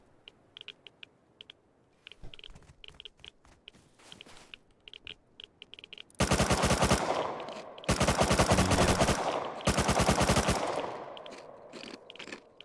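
Gunfire rings out in the Rust video game: scattered single shots and clicks, then three long, loud bursts of rapid automatic fire close by.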